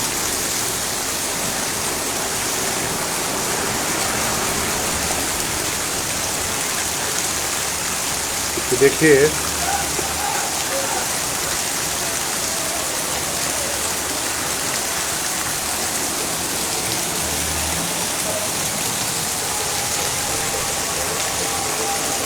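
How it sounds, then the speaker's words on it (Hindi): Heavy rain pours in a dense, steady hiss on surfaces and running water in Ramgarh Shekhawati, continuing throughout, with a brief spoken word and a short clatter around the middle. "धीमे धीमे शुरू हुई है बूंदाबांदी, अब तेजी के साथ बढ़नी शुरू हो चुकी है और काफ़ी तेज बरसात है"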